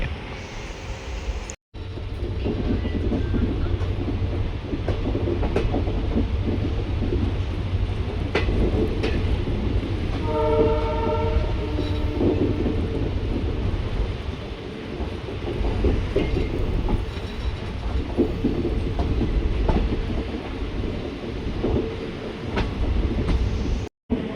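The Talguppa–Mysuru intercity express rolls into Shivamogga Town railway station with a long, steady rumble of wheels and carriages, a brief tonal squeal rising midway, continuous and fairly loud throughout.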